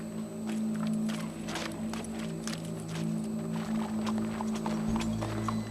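A horse approaches in Red Dead Redemption 2, its hooves clip-clopping in a steady walking rhythm over a low, constant background hum, fairly faint and with no talking.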